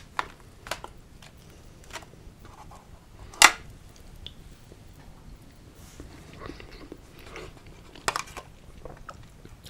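A pepperoni anchovy pizza is eaten up close, with sparse crunchy bites and soft chewing, one bite much louder than the rest, against a quiet background.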